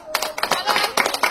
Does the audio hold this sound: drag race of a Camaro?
no